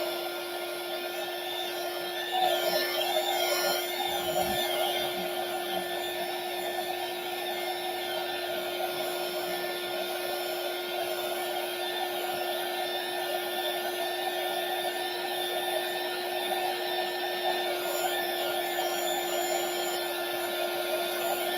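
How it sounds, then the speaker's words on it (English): A handheld heat gun blows hot air steadily for a long stretch, a loud, continuous whirring fan roar with a high whine, used while working on an acrylic painting indoors. "This heat gun is very hot."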